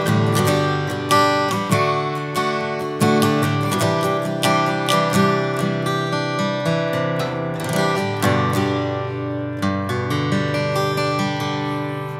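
Kazuki Exotic Series Transacoustic electro-acoustic guitar with phosphor bronze strings, played alone and softly plucked, with a steady run of ringing notes and chords that sustain long and overlap throughout.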